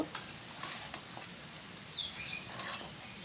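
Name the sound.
stirring jackfruit curry in a pan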